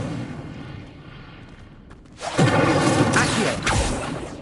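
A fiery Incendio spell from the Hogwarts Legacy game bursts out loudly midway, a roaring whoosh with crackling blasts following a quieter rumbling start, with no talking.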